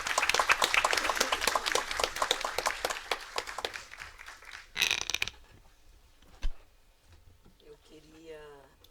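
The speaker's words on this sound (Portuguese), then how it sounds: "E queria pedir uma salva de palmas para o Vanderlei." A room of people at a seminar on elderly health and well-being claps briskly for several seconds and then the applause fades out. Scattered clicks and a brief voice follow in quieter room sound.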